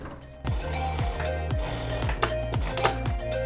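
A sewing machine runs a straight seam joining the welt to a trouser pocket opening, right sides together, giving a steady, close mechanical rattle with rhythmic needle thumps repeating through the run.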